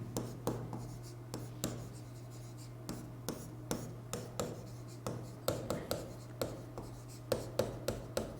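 Chalk or marker taps and scrapes across a classroom board as a teacher writes out a method for an experiment, a steady irregular rhythm of short strokes over a low hum.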